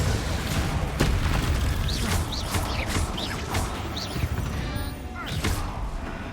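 Confringo fire spell blasts in Hogwarts Legacy: several sharp booming impacts spaced through a busy combat mix, with a player talking over the action.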